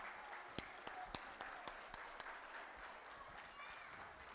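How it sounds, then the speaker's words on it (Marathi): At a Marathi folk Lavani stage show, an audience gives scattered, fairly faint hand claps, a few sharp separate claps at first that then thin out, with a voice speaking. "या कलाकारांसाठी टाळ्या नाही तर कीर्तनातील टाळ्या वाजवायला पाहिजे"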